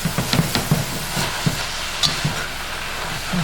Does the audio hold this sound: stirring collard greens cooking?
yes